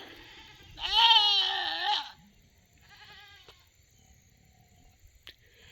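A goat named Cookie on a farm gives one loud, close, wavering bleat lasting about a second, followed by a fainter second bleat and a few small clicks in quiet surroundings.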